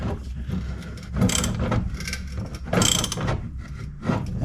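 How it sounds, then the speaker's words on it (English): A ratchet tightening a bolt while installing a 2.5-inch AEV Dualsport lift on a diesel Jeep Gladiator, close loud clicking pawl bursts in several rapid strokes separated by short pauses, no voices. "Just tighten it down."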